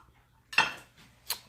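Silverware for a winter tablescape clinks in two quick metallic taps spaced about a second apart, close by in a quiet room.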